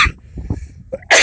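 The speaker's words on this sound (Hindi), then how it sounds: "या ऐसे खांसी है।" A person demonstrates a cough: a few short, muffled coughing bursts close up, ending in a sharper loud exhalation, with no talking over them.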